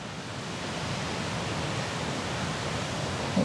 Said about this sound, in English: I hear the falls.